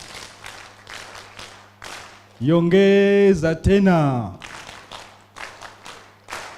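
An audience at a live regional pandemic-preparedness expert conference claps together in steady rhythmic bursts, paused while a loud voice sings or calls out in the middle, then the rhythmic clapping resumes.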